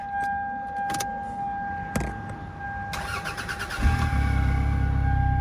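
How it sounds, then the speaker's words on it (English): A car engine, boosted by a Fanttik T8 Apex jump pack, cranks briefly after a few clicks and chimes, then catches and settles into a loud, close, steady idle. "I'll go ahead and start it up a third time just to show you how fast it cranks over"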